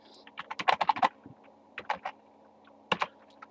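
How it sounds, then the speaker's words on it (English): Keys on a computer keyboard set very close to a microphone are typed in quick clattering bursts of clicks, separated by short pauses. "I'm sorry if you can hear my keyboard. It's very close to the mic"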